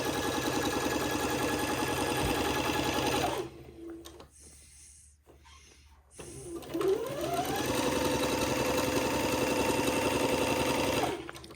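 Sewing machine stitching fabric, a steady mechanical whir running for several seconds, pausing briefly with faint clicks, then resuming the same even hum until it stops.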